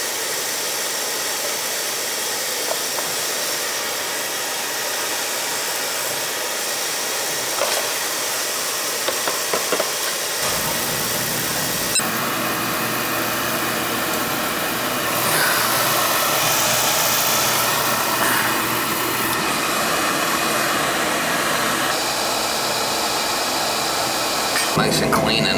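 Utica TriFire oil boiler burner firing up and running, a steady broadband roaring rush that starts low and grows louder and fuller after ignition, continuing evenly throughout.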